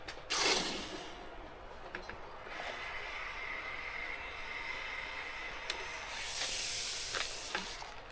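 Hot raku-fired pottery is doused, giving a steady, faint hiss of steam with a louder spray-like surge at the start and another swell near the end, plus a few small clicks.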